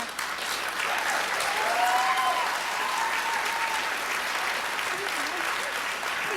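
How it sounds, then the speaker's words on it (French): Studio audience applauding a contestant at a Loft Story reality-show gala, a dense continuous roar of clapping with a few whoops and whistles riding over it, steady throughout. "applaudissez-la"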